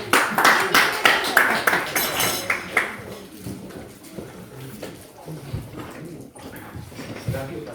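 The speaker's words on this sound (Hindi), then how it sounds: "एक बार सब अपने लिए तालियां बजा लीजिए।" Audience applause at an NHPC Day gathering, a burst of hand clapping in the first three seconds that fades into a murmuring hall with voices and scattered taps.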